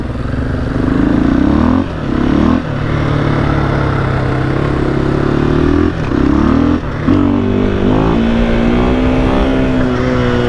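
2021 KTM 500 EXC dirt bike engine revving close by, a loud sustained growl rising and dropping in pitch with several throttle blips and brief dips, no talk.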